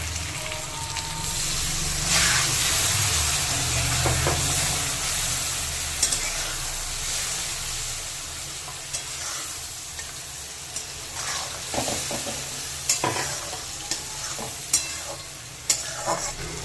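Salt, cumin and coriander powder sizzle loudly in a pan as a little water goes in, a broad hissing fry that swells early and then settles into steady crackling with occasional stirring clicks.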